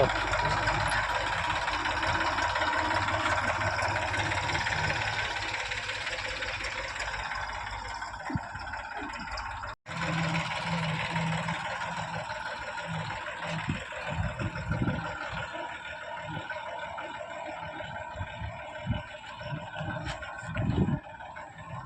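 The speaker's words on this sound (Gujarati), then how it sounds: "બધી બાજુ ટ્રેક્ટર હાલે છે" Steady engine rumble runs throughout, with three tractors idling and chugging at mid distance at a solar plant and occasional thumps and rattles; a brief dropout midway.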